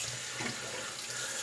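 A water tap runs steadily into a sink to rinse out a shaving brush, a soft, even splashing heard close with no talking.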